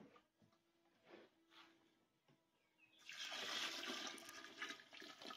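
Quince peel, pips and water tip into a pot, a splashing pour that swells loudly after a few quiet seconds of faint kitchen noise and continues to the end.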